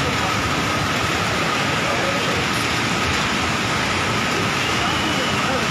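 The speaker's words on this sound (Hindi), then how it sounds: "साथ साथ बारिश भी शुरू हुआ है।" Heavy rain pours steadily over flooded shop-lined streets in Swat, Khyber Pakhtunkhwa, a dense continuous hiss close to the microphone with no pauses throughout.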